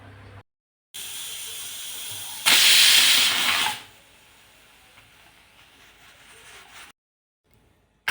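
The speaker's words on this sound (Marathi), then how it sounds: "आता यामधली ना संपूर्ण वाफ काढून घ्यायची आहे" A pressure cooker holding cooked wheat releases its steam in a steady hiss that surges into a loud, bright burst for about a second before settling back to a softer hiss, with short silent gaps at the edges.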